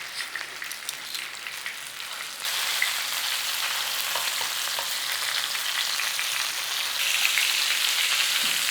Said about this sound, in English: We're trying to sear it up all the way around.